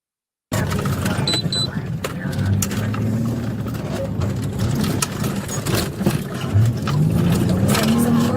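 A car flees police at high speed southbound on Sutro, its engine roaring and revving loudly and continuously, with road and wind noise and a voice talking over it.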